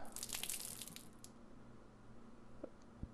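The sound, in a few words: water draining from a valve in The Last Door video game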